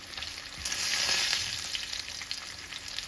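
Fish deep frying in hot oil, a steady close sizzle and crackle that swells briefly then settles into a continuous bubbling hiss, with no voices.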